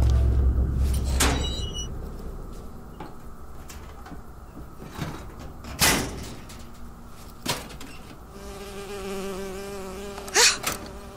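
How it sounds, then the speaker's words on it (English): A bee buzzes in Bioshock Infinite, a thin wavering drone that comes and goes near the listener, broken by a few sharp knocks and thuds against a quiet background. "oh, it's a bee"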